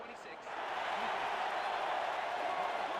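A football stadium crowd swells into a broad, rising roar as fans come to their feet after a pass interference call. The roar jumps up after a brief quieter start and then holds steady and full, with commentary over it.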